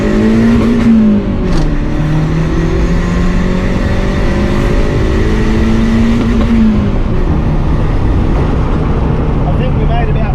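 A Honda D16 engine fitted with a cheap eBay turbo kit on the stock ECU revs loudly and steadily up and down, close and continuous, with a rising and falling engine tone throughout.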